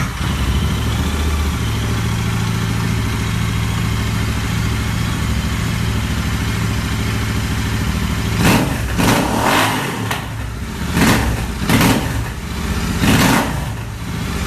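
Motorcycle fitted with an AEW aftermarket exhaust: a steady, close idle drone, then a run of sharp, loud throttle blips in quick succession near the end.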